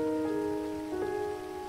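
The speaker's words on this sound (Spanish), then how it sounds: "Entonces está lloviendo feo." Rain falls in the video game GTA V as a continuous, even hiss, with a sustained tonal drone layered over it throughout.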